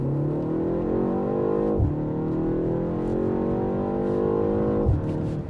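2024 BMW M135 in sport mode accelerating hard from inside the cabin, the engine note rising steadily through two gear changes with brief dips at each shift. It is loud and continuous, and no one talks.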